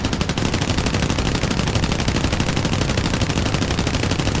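PBY-5A Catalina gunner machine guns in War Thunder firing one continuous, loud, close burst of fast rattling shots with no break or talk.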